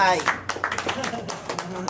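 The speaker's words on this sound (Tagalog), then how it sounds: "Bukod tanging may TF sa tulig salitaan, palakpakan natin. Palakpak yun." An audience claps at a Filipino battle rap event, scattered hand claps heard under loud overlapping talk and shouting, brief and close.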